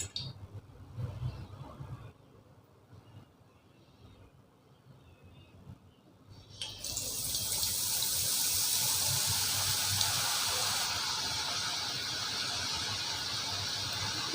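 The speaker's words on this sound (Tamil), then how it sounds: "கரண்டி ஒரு தடவை வாஷ் பண்ணிவிட்டு துணியை வச்சு தொடச்சிட்டு" A tap runs while a ladle is washed at a kitchen sink, with quieter splashing and handling at first, then a stronger, steady gush of water for the last half.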